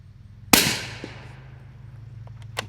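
A single sharp report from a suppressed 9mm firing 255 grain Winchester Super Suppress through a YHM R9 can, a loud pop with a short decaying tail outdoors, followed by a faint distant impact.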